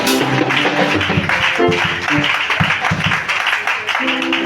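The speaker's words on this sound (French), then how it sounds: "On acclame le Seigneur." A church congregation applauds and acclaims the Lord, a dense, continuous wash of clapping with cheering voices mixed in, loud and close throughout.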